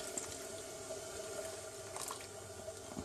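Hibiscus flower squash poured into a container gives a steady, continuous liquid splash and trickle lasting a few seconds, close and moderately faint, with no voices.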